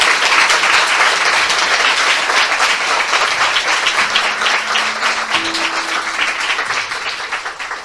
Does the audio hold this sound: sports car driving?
no